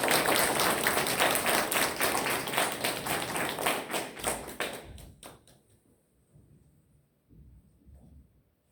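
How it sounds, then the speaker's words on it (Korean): A church congregation applauds to welcome the pastor, dense loud clapping that thins into a few scattered claps and then falls quiet, with faint voices afterward. "이 시간 목사님 나오실 때 큰 우리 환영의 박수 한번 쳐주시기 바랍니다."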